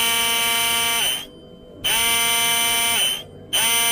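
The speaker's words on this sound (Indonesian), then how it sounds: "pisaunya muter kenceng" A Sonifer hand blender's motor whirs loudly with its blade spinning, a steady high-pitched drone that cuts off twice briefly before starting up again.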